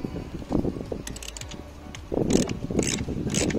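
A ratchet loosens 8 mm screws on the oil decanter of a Citroën C4 1.6 HDI, with rapid clicking pawl bursts close up in two spells separated by a short pause.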